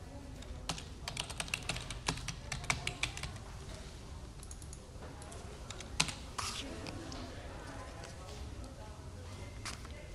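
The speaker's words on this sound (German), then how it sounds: "Ich schreibe alles in den Computer." A computer keyboard is typed on in an office while a form is filled in, with quick bursts of keystrokes, some louder single taps and a pause, close and moderately quiet.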